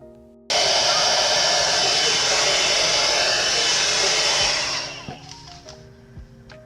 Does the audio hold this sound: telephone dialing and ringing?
no